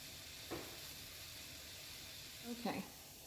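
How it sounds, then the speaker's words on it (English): Brewed coffee simmering and reducing in a pan on the stove, a steady low sizzle and hiss throughout with a couple of brief louder bubbling stirs, moderately close. "You're going to simmer and reduce your brewed coffee basically into a sludge form."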